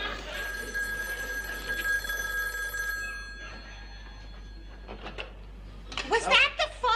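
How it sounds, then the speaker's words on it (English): Telephone bell ringing in a 1970s TV sitcom, repeated rings in the first seconds under a studio laugh track and voices, then quieter talk. "Was that the phone?"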